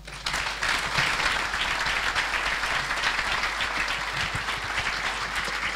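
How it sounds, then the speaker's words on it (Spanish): Sustained applause from a large crowd at a university faculty anniversary ceremony, dense and steady throughout, with no talking. "Allí los aplausos a la rectora"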